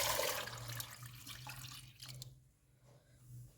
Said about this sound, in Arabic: صافي غادي نكبوا عليها الماء.